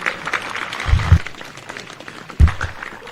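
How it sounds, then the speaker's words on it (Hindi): An audience at a spiritual satsang discourse claps, with a broad wash of applause punctuated by a few loud close hand claps and thumps. "तालियां तो बजा ली"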